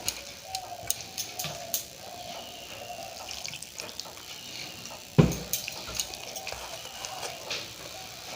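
Water poured bit by bit into beguni batter and stirred, a wet, splashy kitchen sound with light drips and clinks, one sharp knock midway, no talking.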